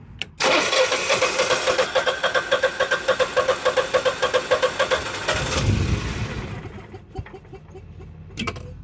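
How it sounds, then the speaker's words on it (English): A boat generator on manual start cranks with a rapid, rhythmic chugging of the starter for about five seconds, then winds down into a few faint clicks and knocks, loud and close with no talking. "We'll hit the on button, and we're going to switch it to manual start. Should crank forever"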